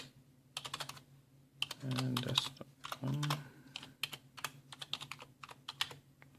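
Someone types an email address on a Windows 8 computer keyboard, producing bursts of quick, close key clicks with short pauses between. A voice briefly murmurs in the middle.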